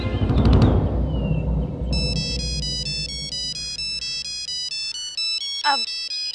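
A mobile phone ringtone plays a repeating electronic melody of steady beeping tones for several seconds, loud and close, following a brief burst of indoor noise at the start.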